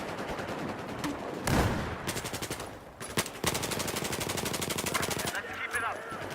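Rapid automatic gunfire from a 93R pistol in Battlefield 4 on the Metro map, with dense bursts of shots running through most of the clip, plus explosions and battle noise.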